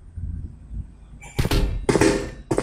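In the Amnesia video game, a wooden drawer slides open and shuts with a few loud, close thumps and knocks following a quiet rumbling start.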